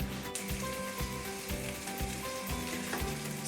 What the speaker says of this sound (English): first of all I'm going to fry the onions